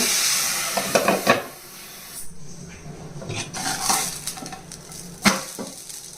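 Ragi uttapam roasting on a pan gives a steady soft sizzle with a few sharp scraping knocks as it is turned, loud at first, then quieter.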